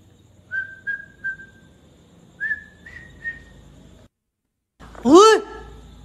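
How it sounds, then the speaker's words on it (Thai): Someone whistles a short tune of sustained pitched notes in two brief phrases, then gives one louder rising-and-falling whistle after a short gap, near and clear with no talk. "ผิวปาก"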